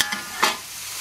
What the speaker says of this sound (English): put my trusty wok lid on it.